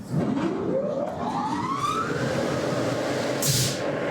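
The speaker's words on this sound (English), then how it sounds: "You hear the fan wind up, you hear the first pulse, and then this will continue pulsing as the collector is running" A CP5250 dust collector at a ready-mix plant, its fan winding up with a rising whine that climbs steadily in pitch, followed by a sharp burst of air from the first pulse.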